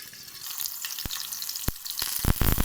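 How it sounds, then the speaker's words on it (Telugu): Mint chutney ingredients fry in a pan with a bright, crackling sizzle, broken by a few sharp spatter pops or scrapes that grow louder toward the end. "ఇంకా అలా బాగా ఫ్రై అయ్యాక ఇలా ప్లేట్ పెట్టి ఫ్రై చేసుకోవాలి"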